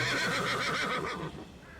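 A startled horse whinnies loudly and up close in one long, wavering neigh that fades at the end, with no voices over it.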